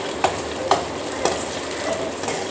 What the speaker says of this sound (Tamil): எல்லாம் எண்ணெயில் போட்டு தாளிச்சிக்கணும்